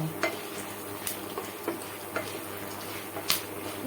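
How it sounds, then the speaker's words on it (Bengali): Salted popcorn kernels stirred in a hot pan, with light clicks and scrapes at irregular intervals over a low, steady frying hiss, close by and without any voices. "লবণ দিয়ে এখন নেড়ে ছেড়ে পপকর্নটাকে আমি সুন্দরভাবে"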